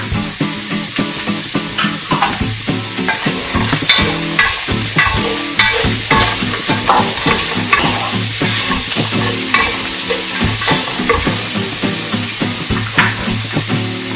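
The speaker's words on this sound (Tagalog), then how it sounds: "Igigisa muna natin siya." Onion being sautéed in a pan with garlic, a loud steady sizzle and crackle of frying under repeated scraping stirs of a utensil against the pan, close and continuous with no talk.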